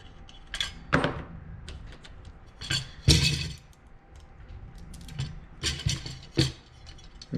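Screws go into drilled and tapped holes on a Honda CRX, with scattered close metallic clicks and rattles in uneven bursts.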